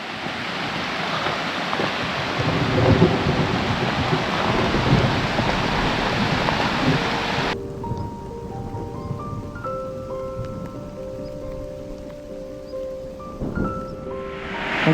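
Steady heavy rain pours down outdoors during a storm, a dense continuous hiss that drops away halfway through, leaving a quieter tonal backdrop.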